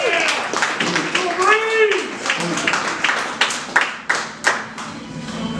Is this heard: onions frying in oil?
no